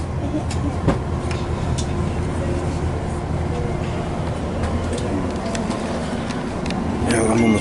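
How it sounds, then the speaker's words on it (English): Steady rumble of a moving passenger train carriage fills the background, with low rolling drone and occasional rattles and clicks from the wagon, while someone talks over it throughout. "Yeah, I'm on the train."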